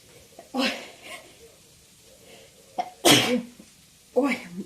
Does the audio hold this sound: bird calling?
no